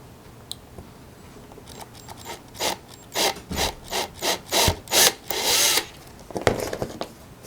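Hand tool working into the plastic grille of a 1:8 scale Eleanor Mustang model, a close run of about eight rhythmic scraping strokes, loud and steady, with a few faint knocks before and after.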